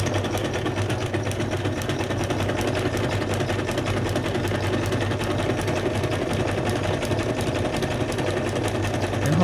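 A sewing machine back stitching through the paper pages of a junk journal signature, running as a steady close whir with a rapid needle rhythm throughout.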